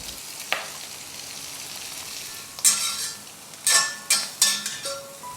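Chicken noodles and vegetables stir-fried in a pan over high flame, with steady oil sizzle and a string of sharp metallic clanks and scrapes from tossing and stirring, close and loud, with no talking.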